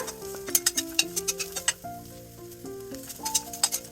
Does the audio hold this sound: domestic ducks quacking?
no